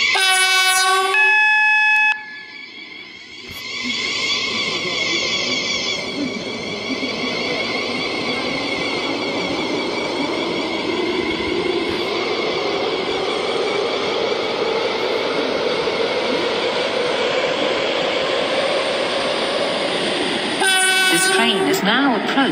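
Train in the Stepford County Railway video game rolling through with a steady roar and rumble, with multi-tone horn blasts at the start and again near the end, loud and close.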